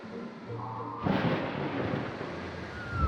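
A thunderstorm with a sudden loud crack and rolling rumble of thunder over steady rain, following a quieter stretch of light rainfall, with no voices.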